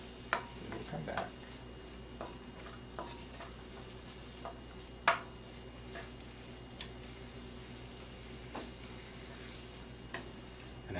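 Pepper stir-fries quietly in oil for vegetable chop suey, a faint soft sizzle under occasional light scrapes and taps from a wooden spoon. The sound stays low and close, with a few scattered clicks and no speech.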